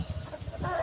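Backyard breeder chickens give a short burst of low clucks, several quick soft notes that swell into a louder call at the very end, all within under a second.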